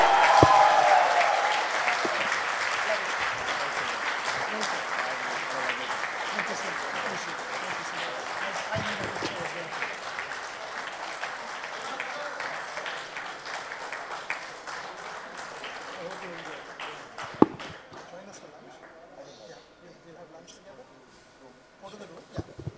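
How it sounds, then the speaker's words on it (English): A large event audience gives a standing ovation, applauding loudly and continuously, the clapping gradually thinning and fading toward the end, with a few scattered voices in the room. "a standing ovation and a round of applause"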